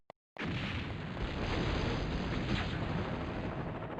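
A video game container being destroyed: a sudden loud explosion erupts after a brief silence, then a sustained roaring, rumbling blast that stays dense and steady for several seconds with no voices.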